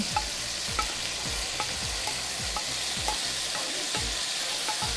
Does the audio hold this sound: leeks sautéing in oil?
yes